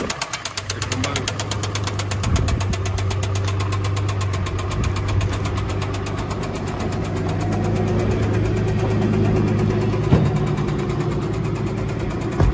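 Engine of a 2008 Nissan Pathfinder SE while driving, heard from inside as a steady mid-pitched drone with a rapid ticking pulse and a faint knocking texture, with a small bump near the end.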